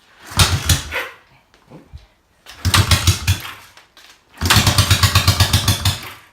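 A 1972 Honda CB350 motorcycle engine cranks and sputters in three bursts, catching briefly, then chugs in a fast rhythmic idle before cutting out, close and loud.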